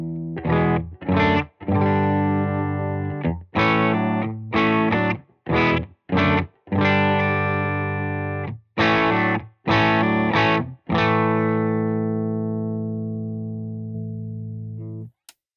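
Electric guitar played through Catalinbread Dreamcoat and Skewer pedals into a Benson Amps Monarch Reverb amplifier, clean chords and single notes struck in short phrases with gaps between, ending on a long ringing chord that slowly fades, no talking.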